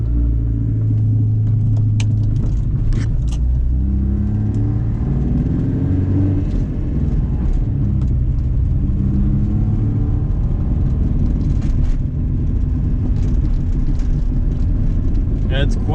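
Cabin noise inside a 1985 Porsche 924 with a 125 hp 4-cylinder petrol engine while driving: a constant loud low rumble of engine and road, shifting in pitch with revs, under someone talking throughout.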